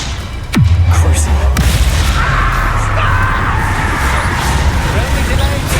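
An Expelliarmus spell fired in a Hogwarts Legacy duel, opening with a sharp zap and a descending whoosh, followed by a loud booming rumble and lingering crackle that sustains for several seconds, close and heavy, with no talk.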